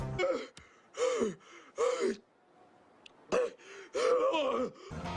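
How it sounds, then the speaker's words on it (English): Heavy breathing from people walking a long uphill mile away from the London Eye, with repeated gasping breaths in bursts separated by short pauses, close and fairly loud with no speech. "We're breathing kind of hard."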